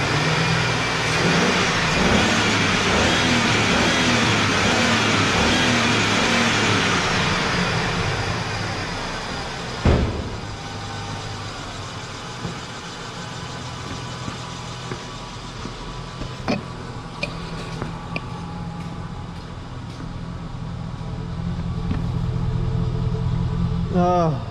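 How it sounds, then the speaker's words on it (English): Chevy Silverado pickup with an oil-burning fault, its engine running loud and close before the revs drop away, then idling more quietly with scattered clicks and clunks before rising again at the end. "I think this will wrap it up after I rev this a few times."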